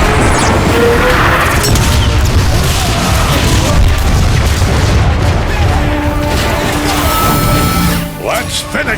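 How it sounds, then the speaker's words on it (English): Artillery strike in the Transformers: Fall of Cybertron video game, a loud sustained barrage of booming explosions and crashing impacts that rumble on before fading near the end, with voices speaking over it. "I'm curious as to what an artillery strike would do to that Marauder"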